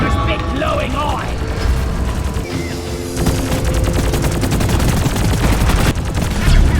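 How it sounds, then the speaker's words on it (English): Rapid gunfire rattles in a video game as shots hit a robot caretaker's glowing eye, a loud, fast, repeated burst over rumbling background noise. "Shoot the caretaker's big glowing eye!"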